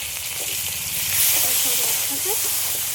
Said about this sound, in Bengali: একটু ভালো করে ভেজে নেবো মশলা আর আলু